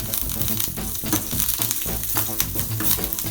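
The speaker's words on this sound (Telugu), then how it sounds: "కరివేపాకు తుల్లుతుంది, చూసుకోండి." Curry leaves spluttering in hot oil during a tempering, a dense, close crackle of rapid pops and sizzle with no voices.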